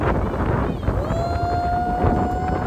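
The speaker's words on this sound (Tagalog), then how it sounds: "Ang lakas ng hangin guys." Strong wind on a beach during a storm buffets the microphone in a steady low roar, with a faint rising tone drifting through and muffled background sounds.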